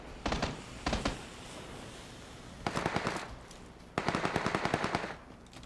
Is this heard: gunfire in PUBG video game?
yes